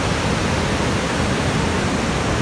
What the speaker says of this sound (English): You can hear the water on the Weir, it's lovely.